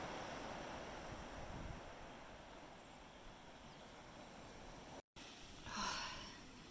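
Ocean surf breaks against the shore on a chilly morning, a broad steady roar of waves with wind buffeting the microphone and a brief surge near the end.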